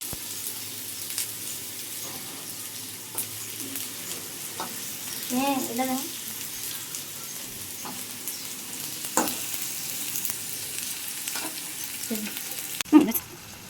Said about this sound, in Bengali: এখন আমরা পেঁয়াজটিকে লাল করে ভেজে নিব